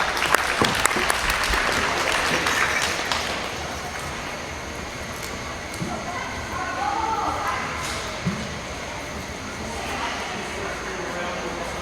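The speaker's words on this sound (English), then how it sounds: "Give them a round of applause." An audience applauds young exhibitors as the grand champion market wether is named at a junior Boer goat national livestock show. Loud, dense clapping fills the opening seconds, then thins and tapers off into a murmuring indoor arena.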